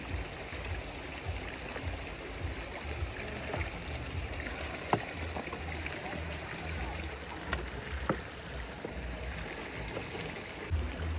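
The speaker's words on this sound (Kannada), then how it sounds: "ನೀರು ಹಾಕ್ತಾ ಇದ್ದೀನಿ." Water poured into a pot for cheese Maggi noodles while cooking outdoors over a fire: a steady rushing, splashing flow running throughout, with faint outdoor background noise and a few soft clinks.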